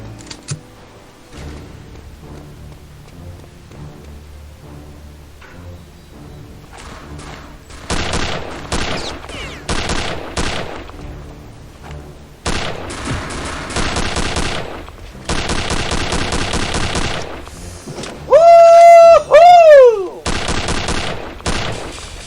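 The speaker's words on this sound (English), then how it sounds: "So this is the FG-42 Paratroop Rifle." FG-42 Paratroop Rifle fire in Return to Castle Wolfenstein, loud bursts of rapid automatic shots in several clusters separated by quieter gaps, ending with a short whistling tone.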